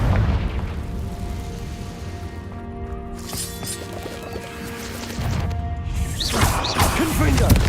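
Confringo fire-blast spell explosion in Hogwarts Legacy: a crashing, booming blast swells out of quieter game ambience, followed by another surge of loud impact noise near the end.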